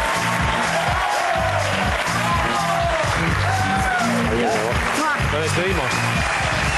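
A television studio audience claps for comedian Enrique San Francisco, dense steady applause with scattered whoops under music and a host's voice calling out briefly.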